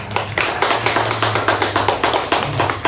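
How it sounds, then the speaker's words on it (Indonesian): An audience claps in a lively, sustained round at a children's parenting and psychology session at a kindergarten, with rhythmic, fairly loud hand claps filling the whole stretch without any talking. "boleh tepuk tangan dulu yang meriah"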